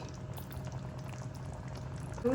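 Chicken fry simmering in a pan as its water boils off, a soft continuous bubbling and sizzle at low volume, with a brief louder clatter at the very end.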